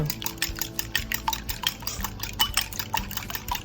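Two forks beat eggs for carbonara in a bowl, a quick, steady run of rhythmic metallic clicks and taps against the dish, close and alone without speech.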